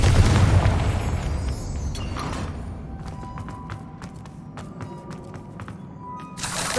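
A Confringo spell in Hogwarts Legacy bursts with a heavy booming explosion that rolls away into a fading rumble, followed by scattered light crackles and small debris taps.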